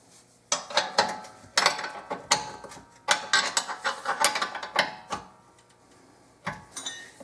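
A ratchet wrench tightening the nut on a 1984-88 Nissan 300ZX Z31 rear shock, a close sequence of quick clicking strokes in bursts with brief pauses, no speech.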